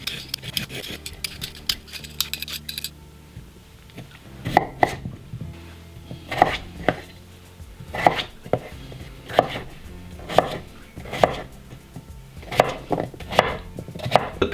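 A knife slices through peeled potatoes on a cutting board in a series of crisp, evenly spaced chops, close and fairly loud, after a brief stretch of softer scraping.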